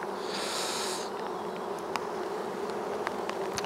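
Honeybees in a top bar hive being opened for inspection drone in a dense, steady buzz, close and continuous, with a few sharper individual bee passes rising out of the swarm.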